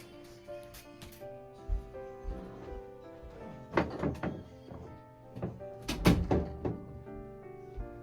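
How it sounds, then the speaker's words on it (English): An indoor room door is pushed shut, with a few soft handling bumps and rattles before a couple of heavier thuds as it closes, near the microphone and without talk. "Let me close my door."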